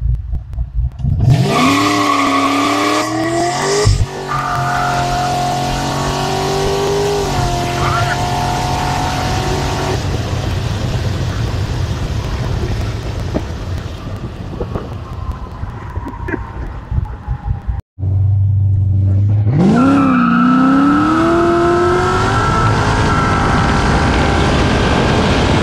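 A car launches hard from a standstill on street tires, its engine revving loudly with rising pitch as the tires spin, a brief gap, then a second loud revving launch close by.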